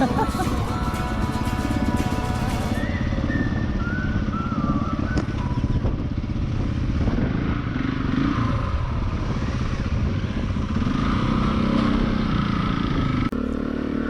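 Trail enduro motorcycle engines roar and rev nearby in the Moroccan desert, a continuous loud drone with shifting pitch, muffled voices faintly underneath.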